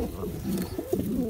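Pigeons coo in a bird loft, a few soft low throaty calls overlapping at close range with no talking.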